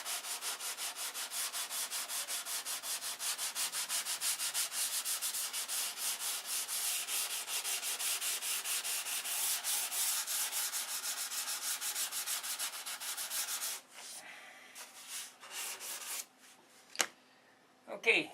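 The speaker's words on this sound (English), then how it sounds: "Okay, that's all sanded out." Steady, close abrasive rubbing of sandpaper over a model airplane wing, continuous and even with fast back-and-forth strokes for most of the stretch, then breaking into scattered softer scrapes and a couple of sharp knocks.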